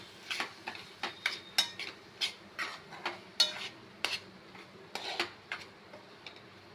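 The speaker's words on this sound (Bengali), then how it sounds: "তারপর একে একে কেটে রাখা আমসত্ত্ব খেজুর কিশমিশ এবং কাজু বাদামগুলো দিয়ে দিলাম ভালো করে নেড়ে দেবো" A spoon taps and scrapes rhythmically against a pan as dried mango, dates, raisins and cashews are stirred into tomato chutney, giving a steady series of about twenty close, crisp clicks.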